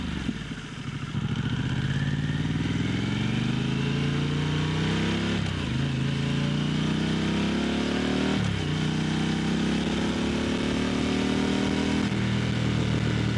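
A 2022 Harley-Davidson Pan America adventure motorcycle engine runs loud and close, revving up twice with rising pitch and dropping back between pulls, a steady strong drone throughout with no talk.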